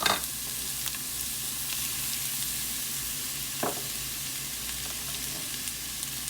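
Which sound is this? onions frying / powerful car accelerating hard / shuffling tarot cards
onions frying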